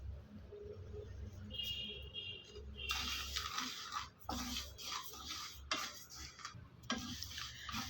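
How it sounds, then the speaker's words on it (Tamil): Foxtail millet flour stirred steadily while dry-roasting in a pan, with quiet, repeated scraping and light rustling strokes and a faint background hum. "கைவிடாமல் ரெண்டுலேருந்து மூணு நிமிஷம் வரைக்கும் அப்படியே கிளறிட்டே இருங்க"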